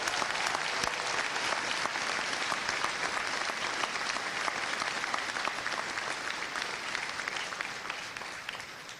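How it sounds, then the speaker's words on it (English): Sustained crowd applause from families and friends in the stands at a Navy boot camp graduation at Great Lakes, Illinois, a dense even roar of clapping that fades slightly at the end. "Can I get a round of applause?"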